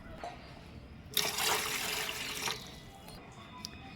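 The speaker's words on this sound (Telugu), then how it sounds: "దీంట్లో ప్రజెంట్కి మేము ఒక 2 గ్లాసులు వాటర్ వేస్తున్నాము." About two glasses of water poured into an idli steamer pot make a brief, close splash and gush lasting just over a second, then a faint trickle and quiet.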